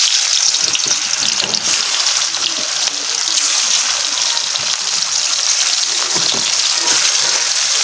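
Pangas fish pieces frying in hot oil in a wok, a steady loud hiss and crackle that continues throughout with small bursts of spattering.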